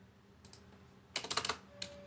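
Keys clatter on a computer keyboard as a query is typed: a few isolated taps, then a quick burst of close, crisp keystrokes, and one more tap near the end, with no talking.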